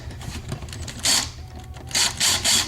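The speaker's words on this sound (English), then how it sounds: "Take my screw gun, kind of guide it there." A screw gun drives screws into an electrical device box in short, whirring bursts: one near the middle, then two or three more in quick succession at the end, over a quiet room.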